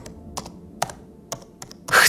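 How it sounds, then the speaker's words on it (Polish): Fingers tapping a computer keyboard: about half a dozen crisp, separate keystrokes in an uneven rhythm, close and clear in a quiet room, ending in a louder, brighter clatter. "zaczął stukać palcami w klawiaturę"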